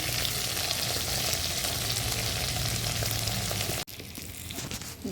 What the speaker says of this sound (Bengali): দেখো আলুগুলো অ্যাড করে দিয়েছি সব মশলার সঙ্গে ভালো করে এবার কষিয়ে নিয়ে